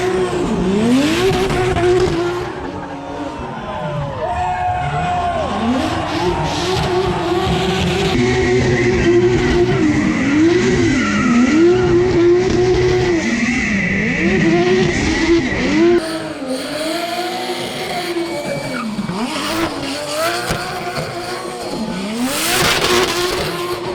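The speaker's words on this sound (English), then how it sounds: "Brad Dan came out in his Supra and he threw down for what felt like 3 hours" A Toyota Supra does a burnout at a burnyard event, its engine revving hard in repeated surging waves while the tires squeal continuously, loud and sustained for the whole stretch.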